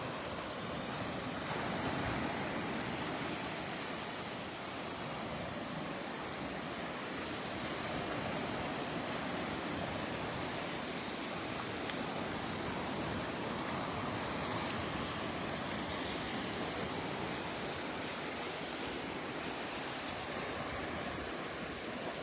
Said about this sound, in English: sounds of Mother Ocean. The lullaby of Mother Ocean. Listen to that.